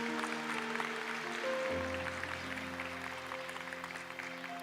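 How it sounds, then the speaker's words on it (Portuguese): A church congregation claps steadily through a Portuguese-language sermon, a dense patter of applause with sustained keyboard chords underneath. "Pode aplaudir"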